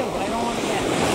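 Ocean waves rolling onto a beach at Mystic, Connecticut in November, a steady broadband wash of surf with wind rumble against the microphone, continuous and fairly loud throughout.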